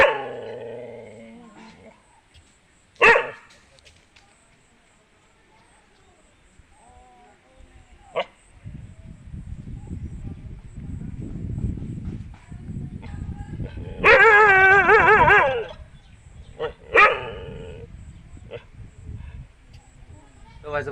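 A hungry dog barks sharply several times in scattered bursts, with low growling and whimpering between them, close by in a quiet outdoor setting.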